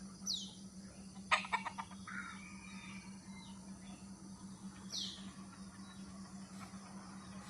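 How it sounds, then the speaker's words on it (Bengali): Soft wild junglefowl clucks come in brief bursts over a steady low hum and outdoor ambience beside an oil palm plantation in Malaysia, with a couple of faint chirps near the start and again later. "এই জঙ্গলি মুরগি"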